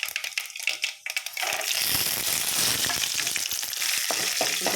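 Peanuts and mustard seeds frying in hot oil in a pan, starting with a few rattling drops as they hit the pan, then a loud, dense, continuous sizzle and crackle close by, with no voices.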